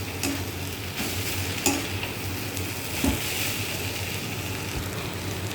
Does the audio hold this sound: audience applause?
no